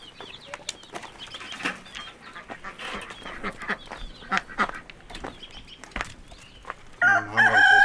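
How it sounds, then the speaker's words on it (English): Soft, scattered clucks and peeps from baby chickens and a hen close by, irregular and quiet, with a louder squawk near the end. "Get the baby chickens."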